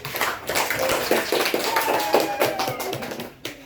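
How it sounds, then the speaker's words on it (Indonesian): A group of children and their teacher clapping together in a classroom, a few rhythmic rounds of hand claps close by, with faint voices mixed in. "tepuk tangan untuk kelompok visual"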